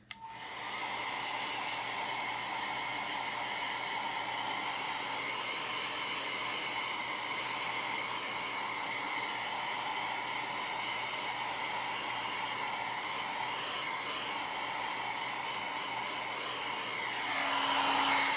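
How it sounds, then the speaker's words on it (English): A hair dryer blows steadily and fairly loud for the whole stretch, drying chalk paste on a craft stencil, a constant airy whoosh that swells slightly near the end. "Hold on, let me dry this part."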